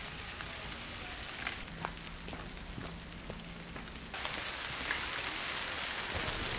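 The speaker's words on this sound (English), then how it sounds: "But I can already feel spots of rain," Steady patter of rain falling on surfaces outdoors in Greece, a broadband hiss with scattered drop ticks that grows noticeably heavier partway through, with no voices.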